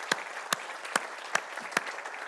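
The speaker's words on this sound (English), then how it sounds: "So a big clap for the panels all day." About five sharp, evenly spaced claps ring out over a low room murmur at the closing session of CIAT's 50th anniversary event, clapping for the panels.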